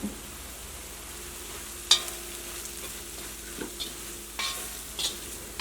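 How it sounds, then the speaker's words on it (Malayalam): Chilli powder roasts in oil for bitter gourd pickle, a soft, steady sizzle broken by several sharp scrapes and clinks of a spoon stirring the pan, close and without talk. "ഇനി മുളക് പൊടി നന്നായിട്ട് മൊരിയട്ടെ."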